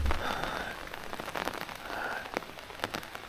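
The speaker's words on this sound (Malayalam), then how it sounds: "ഇവിടെ മഴ നേരത്തെ തുടങ്ങി" Rain falls on the lanes of Hallstatt village in Austria, a close, steady patter of drops striking hard surfaces with a few sharper individual splats, with no one speaking.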